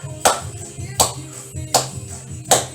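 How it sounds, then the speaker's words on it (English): Rhythmic hand claps land at a steady beat about every three-quarters of a second, four in all, over upbeat music during a group workout with balance exercises. "Clap along wherever you are."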